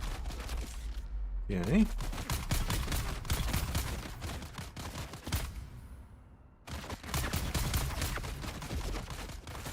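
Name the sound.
elite guards firing missile wands in video game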